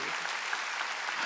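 A church congregation at a Sunday ordination service claps, a brief dense wash of many hands sustained evenly throughout.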